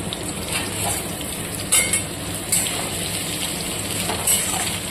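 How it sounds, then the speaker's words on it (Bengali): Onions frying in a pan of oil give a steady, close crackling sizzle with soft stirring scrapes and a few louder clinks of utensils; no one speaks. "পেঁয়াজটা একটু ভাজা ভাজা হোক।"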